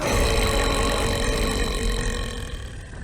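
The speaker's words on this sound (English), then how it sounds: "he's burping in tune" An ogre character in a fantasy game trailer lets out a long, loud, tuneful burp, a continuous guttural belch sustained for about three seconds and gradually fading.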